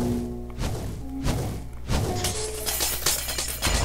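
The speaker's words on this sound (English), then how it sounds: "Sideways explosion." Explosions in the Minecraft Super Smash Mobs game during a fight with a witch: several blunt booming thuds land at intervals among game effects and music, fairly loud and close.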